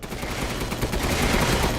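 Rapid machine-gun fire from a tank's infinite-ammo gun in a Resident Evil game, a dense continuous burst of shots lasting the whole moment, loud and steady with no talking.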